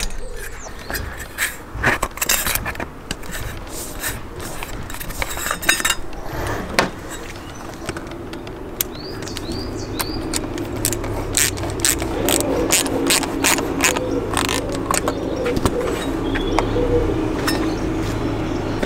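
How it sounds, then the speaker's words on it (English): Jubilee hose clip being loosened on an induction kit: rapid ratcheting clicks in quick bursts, close and fairly loud, with some metallic clinks and a low mechanical hum later on. "we'll get this Jubilee clip loosened up here"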